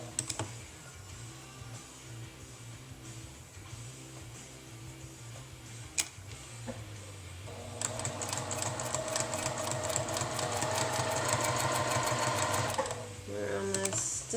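A Juki TL2010Q sewing machine running in a steady fast mechanical chatter for several seconds, then stopping. Before it starts, people talk quietly with background hum, and a few light clicks come at the end.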